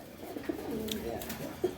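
Racing pigeons in a tin-roofed loft give soft, low coos, a couple of brief near calls over a quiet murmuring background of birds.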